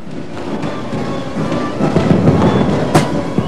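Rockets explode during 1970s fighting in Lebanon, a loud, rumbling, continuous roar of blasts with one sharp crack standing out near the end.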